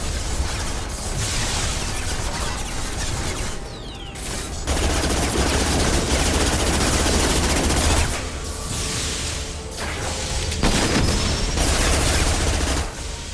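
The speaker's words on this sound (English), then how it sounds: "Taking heavy fire." Heavy gunfire roars through a Mass Effect 2 firefight in long, dense bursts broken by brief lulls, with mechanical clanks and blasts mixed in.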